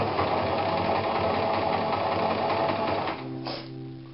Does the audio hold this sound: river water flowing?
no